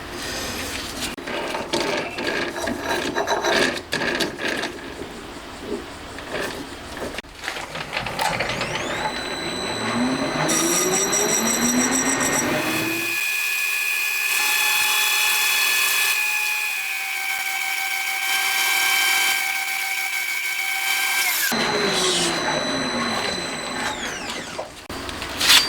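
A machine tool cuts down the outer edge of a handmade starter part for a Honda Monkey engine, loud whining spindle tones rising and falling with grinding, chattering cutting noise, steady for long stretches between speed changes.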